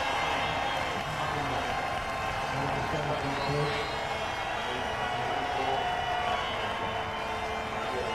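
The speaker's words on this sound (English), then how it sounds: "The crowd is euphoric." A Grand Prix crowd cheering at the 2001 Australian Grand Prix as the drivers come out: a steady, distant roar of massed voices under continuous commentary.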